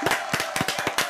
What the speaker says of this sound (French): Je vous demande d'applaudir bien fort, s'il vous plaît, Mehdi.